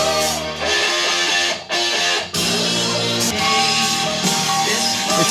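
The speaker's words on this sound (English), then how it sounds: "Is that harpsichord? Sounds like a harpsichord." A harpsichord-like keyboard plucks bright, busy figures within a dense pop song, loud and full, with brief pauses in the mix.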